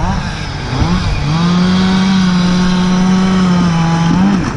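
A chainsaw cutting up tree tops at the edge of the timber on a windy logging site: a brief rev, then a loud, close, steady high engine drone held for several seconds.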